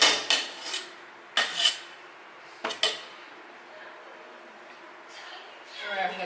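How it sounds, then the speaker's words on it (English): Egg whites being folded into an egg yolk batter in a mixing bowl for an orange chiffon cake: a few soft scraping, rubbing strokes of a utensil against the bowl, close and fairly quiet, with pauses between passes. "And now it's time to fold this one, our egg whites, into the egg yolk batter just until blended"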